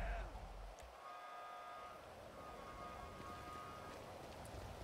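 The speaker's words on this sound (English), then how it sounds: "Ooh, it's raining." Rain falling in the game GTA with the LSPDFR police mod, a steady broadband hiss that lasts the whole time, with tonal game or engine sounds and a faint horn-like toot layered over it.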